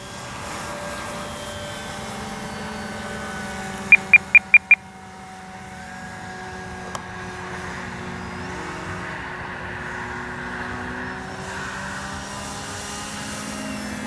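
A Flex Mamba 10 G2 RC airplane hovers in the open, a steady mid-distance motor whine that shifts slightly in pitch, with a quick run of sharp beeps early on.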